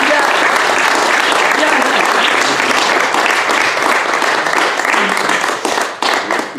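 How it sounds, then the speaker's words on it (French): A live audience applauds a performer at a radio station inauguration show, with steady dense clapping filling the space throughout before thinning out near the end. "On peut l'applaudir."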